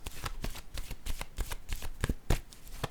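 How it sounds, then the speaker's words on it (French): Tarot cards are handled and laid down on a surface, making a rapid run of soft, papery slaps and flicks at close range with no talking. "Je vais déposer une autre carte ici."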